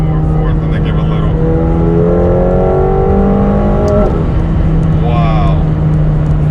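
A 2020 McLaren 720S accelerating through the gears, its engine note climbing in rising sweeps with a steady low drone beneath, close and loud from inside the car, with people talking over it.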